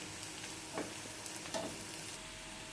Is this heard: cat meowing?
no